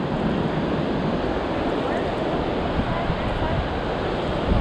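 River rapids roar at Bass Rapid in the Grand Canyon, a loud, steady, broadband rush of whitewater heard up close and continuous, mixed with some wind buffeting.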